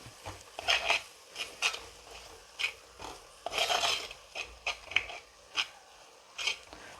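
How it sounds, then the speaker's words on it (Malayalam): A spoon stirs chili powder and homemade fish masala in a pan for Malabar-style mackerel curry, giving repeated short scraping strokes in an irregular rhythm, close and fairly quiet, with no talking. "അതും കൂടെ ഇട്ട് നന്നായിട്ടൊന്ന് ഇളക്കാം"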